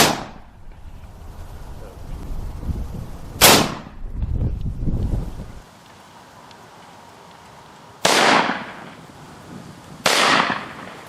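Rifle shots from .223 Winchester Deer Season XP and 6.5 Grendel Hornady Black loads ring out at a penetration test: three sharp, loud cracks spaced a few seconds apart, with some background rumble between them.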